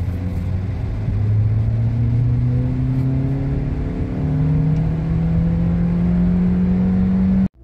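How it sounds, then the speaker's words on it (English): A 2023 Suzuki Grand Vitara mild hybrid engine drones steadily as it struggles to accelerate, its hum climbing slowly in pitch in two stretches before cutting off abruptly. "The vehicle was struggling to accelerate"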